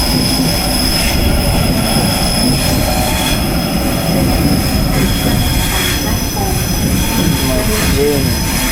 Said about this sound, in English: This is my train going to Cambridge.